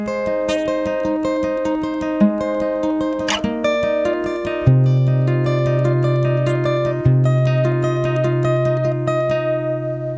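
An acoustic guitar plays the opening bars of a song, a steady picked melody with ringing harmonics and bass notes, close, clear and alone without talk.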